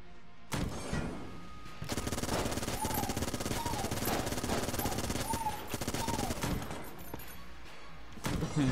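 Rapid, continuous Gatling gun fire in the video game Enter the Gungeon roars as a dense mechanical rattle for several seconds, with small electronic chirps over it and a few sharp bursts at the start and end.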